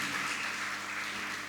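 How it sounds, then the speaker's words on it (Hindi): Audience applause at a Hindi spiritual Q&A session, a dense steady wash of clapping filling the whole moment at even loudness, with no voices over it. "आप लोग जोरदार तालियों से स्वागत"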